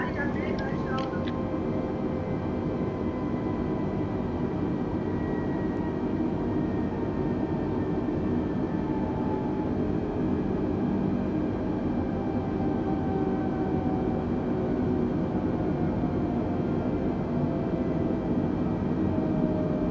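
Steady jetliner engine drone at idle thrust during descent in Microsoft Flight Simulator 2020, a continuous broadband roar with faint tonal whines that holds level for the whole stretch, heard under a speaking voice.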